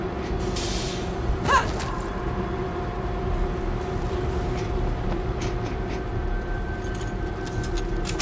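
A train starting up in the video game World War Z rumbles with a steady low drone and a tonal hum, a brief hiss of released air early on, then continuous rolling noise.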